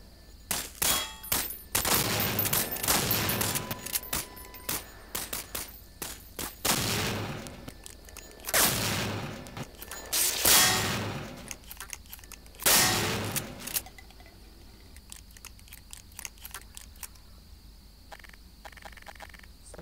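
Heavy machine gun fire in Half-Life 2, with rapid bursts of shots and metallic clangs in separate volleys over about fifteen seconds, then quieter scattered sounds.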